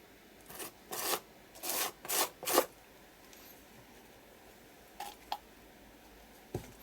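Scraping excess structure texture paste away from the edge of a stencil on a mixed media canvas: a burst of five short, raspy scrapes close by, then a few fainter isolated strokes after a pause.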